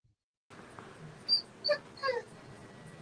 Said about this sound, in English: I can hear your dog.